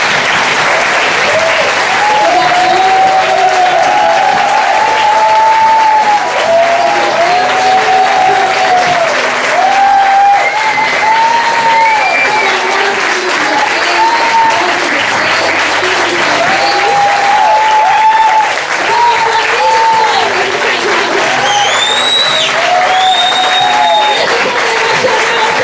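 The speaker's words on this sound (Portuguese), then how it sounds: "agora você vai se colocar de pé para aplaudir o Senhor" A church congregation standing to applaud God, loud continuous clapping with voices singing and calling out over it for the whole stretch.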